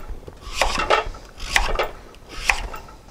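A knife cuts pumpkin into cubes on a board for pumpkin adjika, giving three or four close, distinct chopping strokes with a scraping, rasping edge, spaced about a second apart with no talking.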